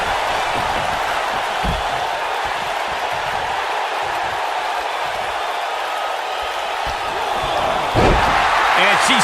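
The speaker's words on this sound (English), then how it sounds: "And she slams her back down." In the WWE 2K19 wrestling game, a wrestler slams an opponent down onto the mat, a heavy thud over steady arena crowd noise, with a second impact near the end and a commentator talking throughout.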